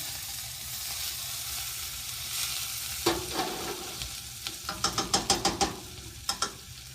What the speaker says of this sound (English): So our mirepoix is definitely getting darker. Burning a little bit.